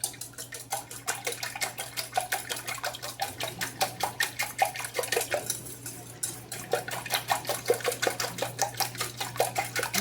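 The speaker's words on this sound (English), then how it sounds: "now we can whisk that up together." A whisk beating wet ingredients seasoned with salt and pepper in a bowl, with rapid, steady rhythmic clicks and swishes repeating for several seconds, close and fairly loud, with no voices.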